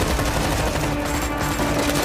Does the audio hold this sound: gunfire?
yes